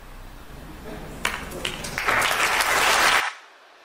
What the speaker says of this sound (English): the people watching it went, whoa, and then started clapping